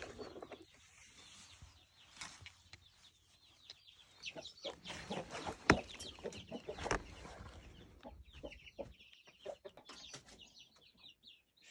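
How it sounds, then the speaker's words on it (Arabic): A hen clucks among her chicks in a farmyard in the Sinjar mountains of Iraq, with soft, irregular clucks and peeping, fairly faint and continuous. "شوف هذا الدجاجة، شوف كتاكيت، عندها كتاكيت"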